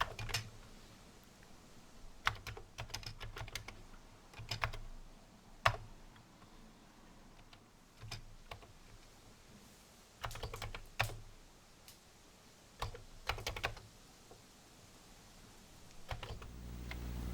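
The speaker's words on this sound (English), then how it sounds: "got my C64 hooked up. Time to quickly type in that program" A Commodore 64 keyboard being typed on, with quick bursts of plastic key clicks separated by short pauses, close and fairly quiet in a still room.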